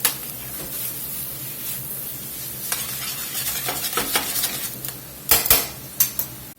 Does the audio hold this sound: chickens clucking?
no